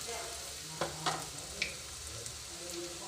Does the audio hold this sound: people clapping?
no